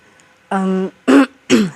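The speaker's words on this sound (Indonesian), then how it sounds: "agak batuk sedikit" A throaty, voiced hack followed by two sharp coughs in quick succession, close to the mic in a quiet room.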